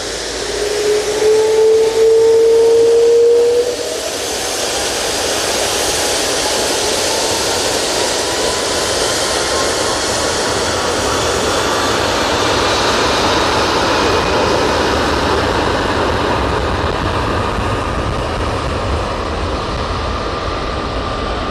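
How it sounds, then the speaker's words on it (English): Air Tanker A330-200 airliner operated for TUI departing Manchester Airport for Palma de Mallorca, a broad sustained jet roar with a steady whining tone that swells early and holds loud and continuous throughout. "A330-200, operated by Air Tanker on behalf of TUI,"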